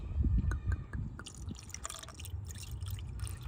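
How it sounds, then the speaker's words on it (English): A liquid engine additive pours and drips close by into a car engine, a short gurgling trickle with soft splashes, fairly quiet and with no talking. "I'm gonna go ahead and pour this into my engine."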